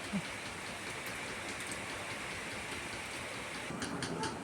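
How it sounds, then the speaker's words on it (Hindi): Light drizzle falls outside on a cloudy morning in Uttarakhand, a dense even patter of drops that continues without a break for several seconds and is heard alone. "बाहर बारिश हो रही है झुमझुम वाली"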